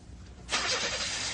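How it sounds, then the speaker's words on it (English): A car's electric starter motor cranks the engine after a short quiet lead-in, a sudden loud whirring burst that holds steady to the end. "That's the sound of your starter motor."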